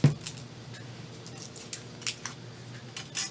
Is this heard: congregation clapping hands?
no